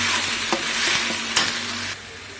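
Vegetables with ginger-garlic paste sizzle and fry in a pan for a vegtable sabji, with a steady close hiss and a few clacks of a stirring spoon, then the sizzle quietens.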